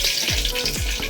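Mustard seeds sputtering in hot oil for a home-style bitter gourd curry, a steady close sizzle broken by a few sharp low pops roughly every half second, with no voices.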